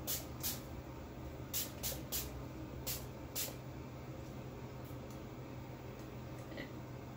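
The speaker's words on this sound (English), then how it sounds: "I can just spray this on my face" Several short, soft hissing sprays of a facial toner mist bottle onto a face, some in quick pairs, spaced over a quiet background.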